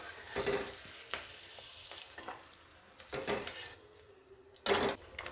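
Broad beans frying in oil in a pan for a khesari greens dish, a constant crackling sizzle broken by repeated clinks and scrapes of a metal spatula against the pot.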